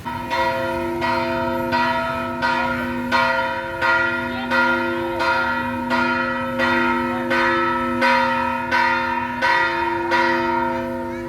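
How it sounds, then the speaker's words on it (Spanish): Church bells ring in a steady, repeating rhythm, loud and resonant, each strike overlapping the lingering hum of the last, with no voices. "las campanas de la iglesia"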